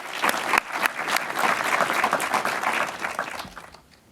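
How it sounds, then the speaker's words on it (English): An audience at a startup pitch event applauds the presenters with a dense, steady round of clapping that holds for several seconds, then fades away at the end. "Let's have another round of applause for all the presenters."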